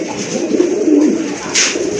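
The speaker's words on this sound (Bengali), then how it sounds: "খুবই চমৎকার এক জোড়া কোয়ালিটি ফুল কবুতর।" Quality pigeons in a loft giving soft, low throaty coos in a rolling run, close by, with a brief rustle near the end.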